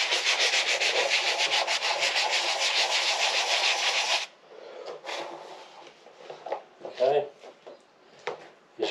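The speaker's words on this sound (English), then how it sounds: "we'll just give that a little bit of a sand. Just sand that off there." Rapid back-and-forth sanding strokes on a small wooden finger joint piece run loud and steady for about four seconds, then stop, followed by quieter handling knocks and brief talk.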